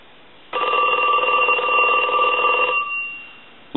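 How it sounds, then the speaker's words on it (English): An original Snoopy and Woodstock novelty telephone rings after repair. Its bell gives a continuous, close metallic ring for about two seconds, then fades, with a brief click at the end. "we can go ahead and ring the telephone since it's hanging up now"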